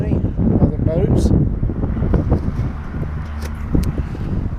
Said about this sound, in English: Now it's so windy today